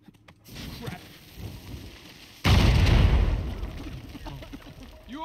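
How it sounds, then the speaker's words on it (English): In the Uncharted 4 video game, a loud explosion bursts out midway and then rumbles and fades. Fainter impacts come before it, and voices talk under the scene. "Estos tienen que explotar ahorita."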